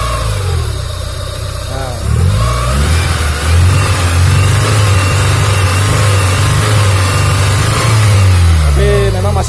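A freshly assembled Honda Civic Genio engine revs up loudly and holds a raised, droning pitch before easing back down, close and dominant, with a brief spoken word over it.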